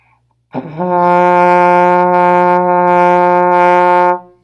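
A beginner-level trombone sustains a single high F with the slide fully in, one steady, loud, clean brass tone held for about three and a half seconds with no talking.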